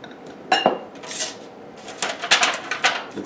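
Metal baking pans and utensils clatter and clink in a kitchen while the pans are buttered for baked mac and cheese, with several sharp knocks spread across a few seconds and no talking.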